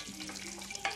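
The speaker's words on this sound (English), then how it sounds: "So when you hear the cumin sizzling and talking to you, you know what that means." Cumin seeds sizzle in hot ghee for a tadka dal, a soft steady crackling hiss heard close up, with a brief louder burst of spatter near the end.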